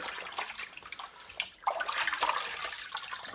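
A wet Hoover Junior Dirtsearcher vacuum cleaner bag, hung over a sink tap, drips and trickles water into the sink in an irregular patter of close splashes, with a fuller gush of runoff partway through.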